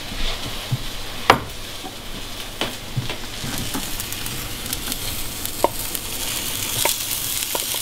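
Steak going back into a hot pan with cooked daylily root, a steady close sizzle and crackle running throughout, marked by a few sharp clinks and taps of utensils against the pan.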